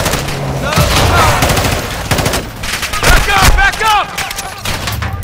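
A chaotic Call of Duty: Modern Warfare II firefight: dense, loud volleys of rifle and machine-gun fire crackle almost nonstop, with shouted voices cutting through the shooting.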